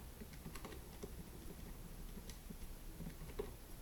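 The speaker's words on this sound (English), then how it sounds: "Let's type that into our calculator." Numbers tapped into a calculator, a faint scatter of light clicking keypresses at an uneven pace, close but quiet over a steady background hiss, with no talking.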